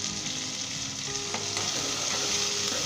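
Onions fry in vegetable ghee over a medium-high flame for a mutton kunna, making a dense, loud, continuous sizzle with faint stirring scrapes and no one speaking.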